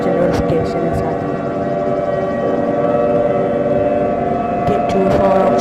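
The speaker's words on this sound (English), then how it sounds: "I'm hearing the sirens" Civil defense sirens wail in an emergency alert scenario, a loud sustained tone held steady with scattered clatter and noise underneath.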